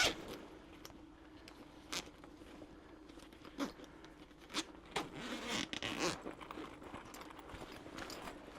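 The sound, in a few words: backpack zipper being opened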